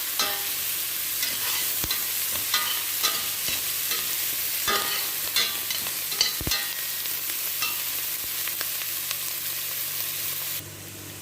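Onions sizzle and fry in a pan for a chicken with kobuz and eggplant dish, with steady crackling and repeated sharp scrapes and clicks from stirring throughout.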